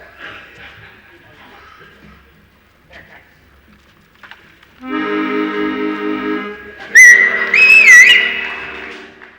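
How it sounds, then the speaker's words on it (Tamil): A person whistles a short wavering tune, loud and near, after a quiet stretch with faint voices and sounds in the background. "ஏன் விசில் அடிக்கிற? ஒரு பெரிய மனுஷன் எதிர விசில் அடிக்கிற அறிவு இருக்கா?"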